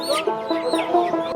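Chickens held in boxes at an old village livestock and bird market cluck in quick, close, overlapping bursts with no talk.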